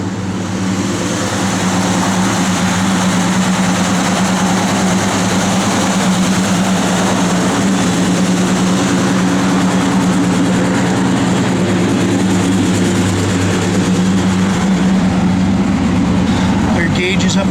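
A 1969 Chevrolet Chevelle SS engine runs loud and steady throughout, a constant low rumble with a brief rev near the end, while people talk over it.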